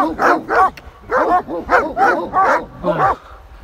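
A dog on a mountain trail barks repeatedly at close range, six or seven sharp yipping barks in a quick, slightly irregular rhythm, loud and clear with no talk over them.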